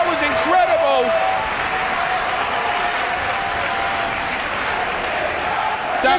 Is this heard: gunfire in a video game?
no